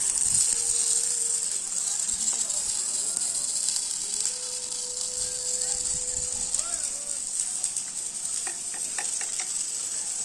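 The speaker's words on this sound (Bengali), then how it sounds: "এখানে মিক ওয়েল্ডিং চলছে" MIG welding on a tall steel fabrication post with a base plate, giving a steady, bright crackling hiss throughout with faint sharper pops near the end, while a voice talks in the background.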